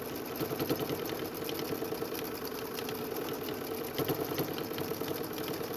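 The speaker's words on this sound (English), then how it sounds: "show that my machine is now stitching happily again" A sewing machine stitches continuously during free motion couching of yarn, giving a fast, even mechanical whir at a quiet, steady level with no talking.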